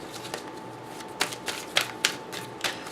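Numerology cards are shuffled by hand, a close series of sharp papery riffles and flicks in irregular bursts over a low steady background hum.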